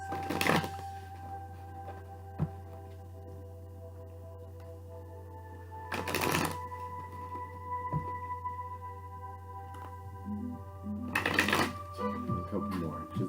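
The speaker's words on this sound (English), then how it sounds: "I got one more shuffle" Brief bursts of riffling tarot cards being shuffled, three separate flurries spaced apart, over a steady low hum.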